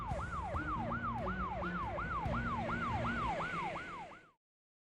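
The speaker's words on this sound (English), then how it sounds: "Sirens swallowed the rest." An emergency vehicle siren wails in a fast, even up-and-down cycle, loud and close with no voices, repeating about a dozen times before cutting off abruptly.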